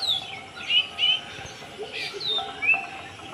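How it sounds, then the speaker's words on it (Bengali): Small birds chirp in short, high tweeting bursts spaced through a quiet outdoor scene, moderately near, with soft background noise between calls. "পাখিগুলো কিচির মিচির আওয়াজ করছে, কিচির মিচির।"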